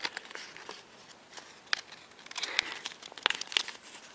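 Paper crinkles and rustles softly as it is folded along a crease and tucked into an origami boomerang, in a few brief, close, light bursts that grow slightly busier toward the end.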